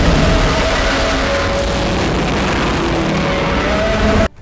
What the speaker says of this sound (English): And then we get an awesome Godzilla roar.